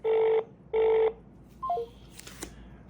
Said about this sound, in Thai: เมื่อกี้ก็คือเราโทรไป GPS ก็รับสายนะครับ